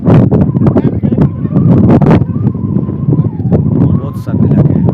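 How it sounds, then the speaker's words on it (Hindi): Strong cold wind at the Babusar Top mountain pass, with loud, continuous microphone buffeting and roaring gusts throughout, and someone talking over it. "तेज़ हवा चल रही"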